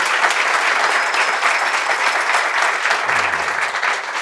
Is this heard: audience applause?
yes